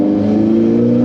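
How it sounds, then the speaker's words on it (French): A Ferrari V8 revs loudly and up close during a slow drive near Monaco, a brief, steady, full-bodied engine roar with no talk over it. "Écoutez le bruit du V8"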